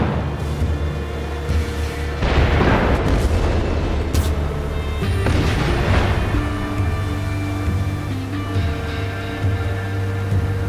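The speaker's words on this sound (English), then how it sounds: "Check out the fireworks." Fireworks in the video game Far Cry 6 during a celebration scene: a continuous loud barrage of booming bursts and crackling explosions, with heavier blasts building and fading over a dense rumbling background.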